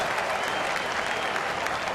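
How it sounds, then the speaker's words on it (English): A baseball crowd in a stadium applauds loudly after a good catch of a foul ball, a dense, steady wash of clapping and cheering that fills the clip. "A great reaction from the crowd."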